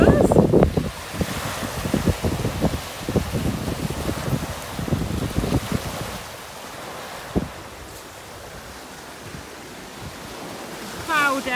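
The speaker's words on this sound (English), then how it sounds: "So we're going to have a bit of a walk on the beach." Surf rolls onto the North Beach at Bridlington on a cloudy day, with waves washing in and wind buffeting the microphone, voices talking over the start before the water continues alone.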